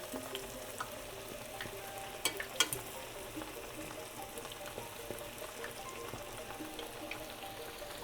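Fritter dough sizzling and crackling in hot oil, a continuous soft bubbling hiss with scattered pops and a few louder clinks near the middle.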